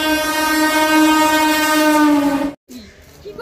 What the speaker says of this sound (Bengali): এখনো থ্রু ট্রেন